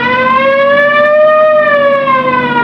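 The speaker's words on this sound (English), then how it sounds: "You want to hit the siren?" A police car siren on a Los Angeles street blares loud and close in a steady wail, its pitch rising slowly and then falling back, alone without talk.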